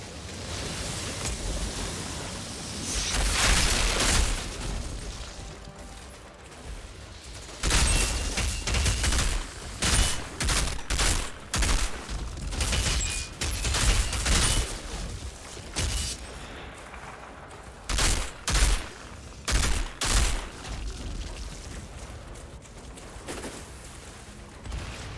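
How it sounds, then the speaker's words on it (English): Mortar rounds pound the ground in the shooter Outriders: a string of loud, sharp blasts, some grouped in quick bursts and others spaced a few seconds apart, over a low background rumble. "Mortar rounds again."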